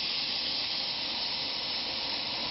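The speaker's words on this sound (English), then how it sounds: "We've opened up the water and then the steam, and then you throttle back on the water, and you can see the pressure that comes out now." A steam injector on a B & BX steam locomotive discharges a full, steady jet of steam, a loud continuous roaring hiss close by with no pauses or talk.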